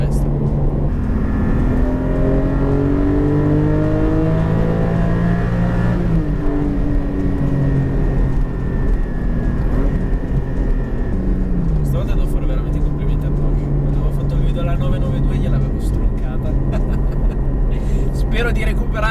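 A Porsche Cayman GT4 (718) engine pulls through the gears, with rising tonal sweeps and gear changes, loud and close, while someone talks over the driving throughout.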